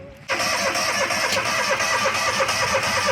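A gas-powered sawmill engine starts up abruptly after a brief quiet moment, then runs steadily at a loud, even idle with a slight rhythmic pulsing and no talking over it.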